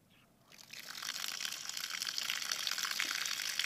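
Water gushes steadily from a rain barrel tap after a brief quiet start, a close, continuous broadband rush with modest pressure that holds evenly to the end.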